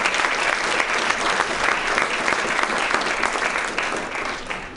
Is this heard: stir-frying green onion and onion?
no